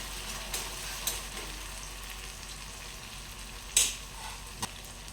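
Chopped tomatoes and capsicum cook in a pan for a Telugu capsicum-tomato curry, giving a low, steady sizzle with a few sharp clinks of a spoon or the pan, with no talking.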